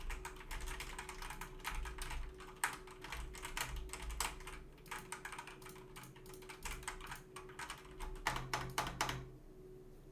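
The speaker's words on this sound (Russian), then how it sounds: "рядом механическая клавиатура, я сейчас попробую сымитировать процесс игры" Rapid clicking of a mechanical keyboard, with scattered mouse clicks, continuous and close-up, ending in a brief pause.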